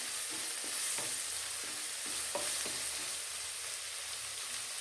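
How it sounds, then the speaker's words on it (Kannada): Sprouted moong beans frying in oil over low heat, a faint continuous sizzle broken by regular soft stirring knocks from a spoon in the pan. "ಇದನ್ನ ಹಾಕ್ಕೊಂಡು ಚೆನ್ನಾಗಿ ಎಣ್ಣೆಯಲ್ಲಿ ಹುರ್ಕೋಬೇಕು"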